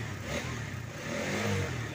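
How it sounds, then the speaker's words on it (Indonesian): A Honda CB150R motorcycle engine revving up close, a loud throaty roar that swells slightly in the second half. "ini kita coba hidupin kita geber-geber aja sebentar"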